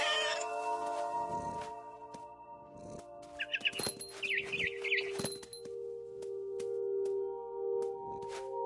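Cat meowing in the video game What Remains of Edith Finch, a few clear meows and cries over a steady layer of game music and ambient tones.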